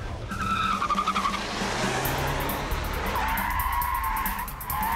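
Tires on a 2013 Chevrolet Cruze diesel squeal and skid continuously as the small sedan is pushed hard through a slalom, with shifting pitch over a steady engine drone.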